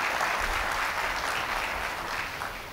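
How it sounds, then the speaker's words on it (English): An audience applauds a prison service with dense, steady clapping that fills the hall throughout, unbroken and loud, with no voices rising above it. "this evening I say a round of applause to our prison service, please"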